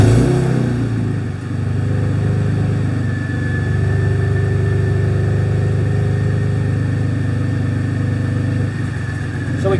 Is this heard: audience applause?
no